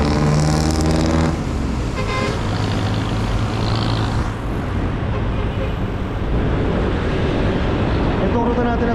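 Jeepneys and buses rev along a busy Commonwealth road in Manila traffic, engine drone and passing vehicles steady throughout, with a louder harmonic engine note at the start and a voice talking over the noise.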